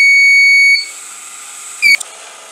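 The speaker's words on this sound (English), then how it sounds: "If the vehicle is near, then the vehicle is stop and buzzer start buzzing," The buzzer of an ultrasonic driver safety system project sounds a steady electronic tone, loud and close, then stops, followed by a short faint chirp after a pause.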